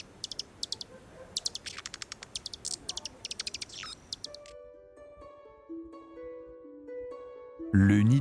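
Birds chirp in quick, high bursts of repeated notes over a soft background hum for several seconds. Gentle tonal music then takes over and swells near the end.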